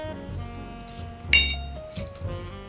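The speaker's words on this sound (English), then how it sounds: "So let's start to muddle." Glass clinking as lime and a teaspoon and a half of white sugar are muddled in a glass for a caipirinha, a few light knocks and one sharper clink heard near and clear without talk.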